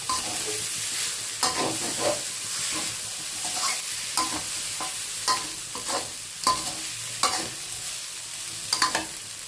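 A spatula stirs and scrapes tom yum shrimp fried rice, seasoned with sugar and fish sauce, in a sizzling wok, with repeated loud scraping strokes over constant frying hiss and no talking.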